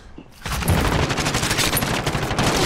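Gunfire in a Call of Duty: Warzone quads match starts suddenly after a quiet moment and becomes a loud, rapid stream of close shots that keeps going with no pause.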